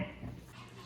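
A dog gives a brief, muffled woof, a single short vocal burst over quiet background noise.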